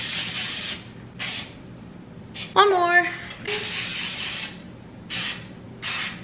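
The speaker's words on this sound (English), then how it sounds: "of course, we gotta spray our pans." Cooking spray on baking pans in a home kitchen: several short hissing bursts of aerosol, close and bright, with a brief spoken phrase in the middle.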